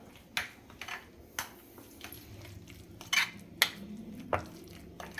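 A spoon clinks and scrapes against a bowl in irregular taps while chutney is mixed with salt, fairly close and quiet, with no talking.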